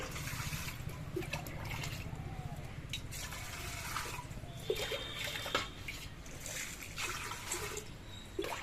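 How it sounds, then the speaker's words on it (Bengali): Water poured into a cooking pot prepared for plain white khichuri, a steady close trickling and splashing that runs for several seconds with small bumps and knocks along the way. "ভেতরে জল দিয়ে দিচ্ছি"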